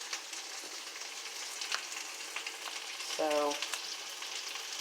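Turkey sausage fries in a pan with a steady, close sizzle and crackle, for a smoked turkey hash; one short spoken word briefly breaks the frying near the end.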